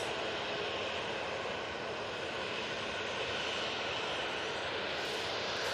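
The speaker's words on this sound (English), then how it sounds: "Next in, we've got Ryanair coming in from Dublin." A Ryanair airliner arriving at Manchester Airport from Dublin roars steadily and loudly throughout, a broad sustained engine rush with no talk.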